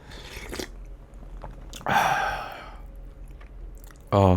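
Someone eats hot sundae gukbap, Korean blood sausage soup seasoned with dadaegi chili paste, with soft close chewing and slurping bites in separate bursts and a short spoken voice at the end.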